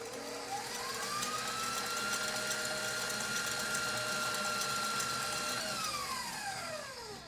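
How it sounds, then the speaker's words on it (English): Electric mixer whipping egg whites with sugar on high speed for a Tex-Mex blackberry pecan tres leches cake, a steady close whirring drone with rising and falling tones that winds down at the end. "Now I'm gonna slowly add 1/4 cup of sugar, and I'm gonna crank it up on high speed until they become nice and firm."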